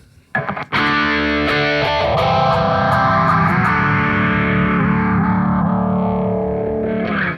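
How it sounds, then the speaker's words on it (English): Electric guitar played through a BOSS ES-8 switching system with overdrive and phaser pedals engaged: a loud, sustained distorted chord swelling with a sweeping phase shift, ringing alone for several seconds after a brief pick attack. "Then the fourth one is overdrive with the phase, like I said."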